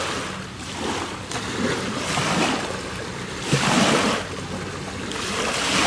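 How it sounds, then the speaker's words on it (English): Boat wake washing ashore at Queenstown, New Zealand: rolling surges of lapping water rise and fall in slow waves, mixed with wind buffeting the microphone, with no voices. "the waves, with that wake that has gone by of the boats, just returning to its genteel self"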